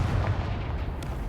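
Confringo spell blast in the Hogwarts Legacy video game: a deep, rumbling explosive boom sustained at steady loudness, dense low-end thunder with a sharper crackle near the end, no voices.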